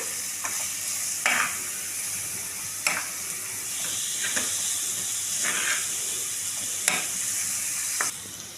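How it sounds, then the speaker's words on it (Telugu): Ginger garlic paste fries in a pan with a continuous bright sizzle and hiss, broken by several stirring scrapes at irregular intervals, close by with no voices. "అల్లం వెల్లుల్లి పేస్ట్ కాస్త పచ్చివాసన పోయేట్టు వేయించుకోవాలి."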